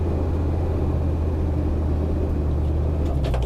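A GAZ-39371 Vodnik armored car driving, a steady low engine rumble and drone with road noise that holds constant and loud, with a few brief rattles near the end.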